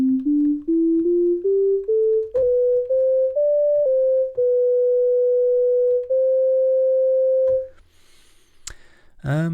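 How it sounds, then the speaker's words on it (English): A pure analog synthesizer oscillator sine tone stepping upward through a series of pitches, then holding a long steady note before cutting off into brief clicks and noise. "the sine wave is the simplest wave you can get"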